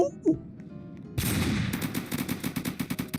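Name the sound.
gunfire in the Roblox game Military Tycoon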